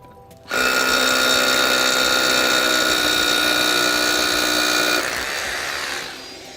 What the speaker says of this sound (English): If I'm using this hammer here, we'll show you kind of how this works.